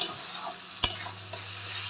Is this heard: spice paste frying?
yes